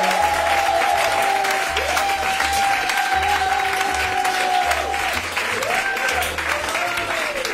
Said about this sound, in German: Applaus hier, Unterstützung.